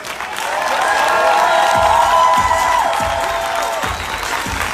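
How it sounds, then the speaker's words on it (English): Applause from an audience at a training event in Cancún swells and holds steady, mixed with some cheering and a few whoops rising over the clapping. "let's give a big round of applause to them"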